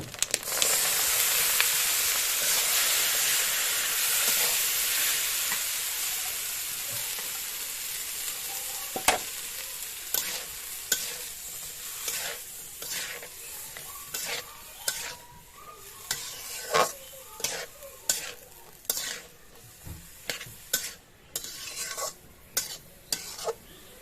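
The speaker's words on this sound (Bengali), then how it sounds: "এবার দিয়ে দেবো এই যে কেটে ধুয়ে রাখা পেঁয়াজের ফুল।" Onion flowers frying in a pan, opening with a loud, broad sizzle that gradually settles, then a run of sharp spatula scrapes and taps as the mix is stirred, with no talking.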